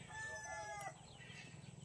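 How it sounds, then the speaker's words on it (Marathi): A rooster crows loudly and clearly as country chickens gather near a rural goat shed in the evening, the call lasting under a second before fading into soft clucks and low farmyard murmur. "जवळ येऊ राहिल्या सगळ्या कोंबड्या."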